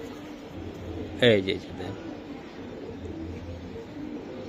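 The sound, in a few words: pigeons cooing while being shown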